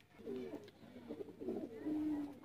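A Teddy breed male pigeon cooing in a series of low, throaty, rolling coos, close by, repeating in short phrases with faint background noise.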